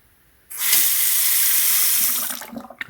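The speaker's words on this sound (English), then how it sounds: "Now we're going to turn on the water." Tap water gushing from a faucet after the cold-side valve is opened on a sink under leak repair, starting abruptly into a loud steady hissing stream for about two seconds, then fading with a few splashes and clanks.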